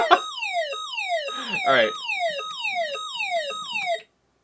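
A Moose Z1100e security alarm panel in a salesman's demo briefcase sounds a loud, repeating falling electronic siren in rapid cycles, then cuts off abruptly, with a brief word spoken near the end.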